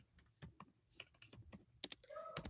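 Keys clacking on a computer keyboard in a short burst of typing, a quick irregular run of taps close to the mic with no talk over it.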